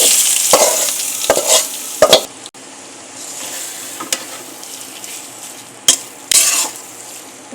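Garlic, onion and whole cumin stir-fried in hot oil: a close sizzle broken by repeated scraping stirs and clinks of a spatula against the pan, loud bursts alternating with quieter frying, no voices.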